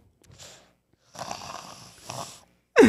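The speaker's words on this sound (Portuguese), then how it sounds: "Tá roncando." A person snores in a few rough, breathy bursts separated by short pauses, fairly close, with no talking, ending on a louder abrupt noise.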